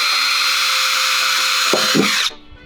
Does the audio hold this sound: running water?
no